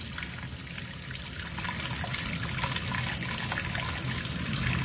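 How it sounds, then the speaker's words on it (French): Water pours continuously into a cooking pot holding pieces of salt cod, a steady splashing stream that grows slightly fuller as the pot fills. "Je rajoute de l'eau pour faire une deuxième cuisson."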